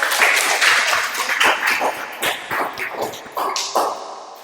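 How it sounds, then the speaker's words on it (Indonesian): Classroom students applauding after an answer with a brisk, scattered round of clapping that rises, wavers and tapers off over several seconds, close and fairly loud. "Tepuk tangan dulu dong jawabannya"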